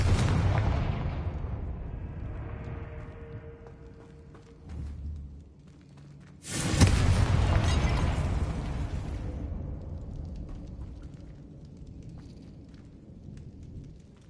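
Confringo fire spell blasts in Hogwarts Legacy: a booming explosion rumbles and fades, then a second sharp, loud burst erupts and decays slowly into a lingering rumble.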